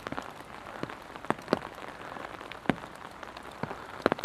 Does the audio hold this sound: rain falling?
yes